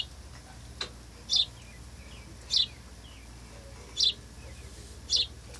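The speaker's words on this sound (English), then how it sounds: "I can hear Mama calling to the bird, telling it to come on, come on." A mother bird calls to her fledgling with short, high chirps repeated about every second and a quarter. The calls come at moderate distance over quiet background hiss, and there is one faint extra tick early on.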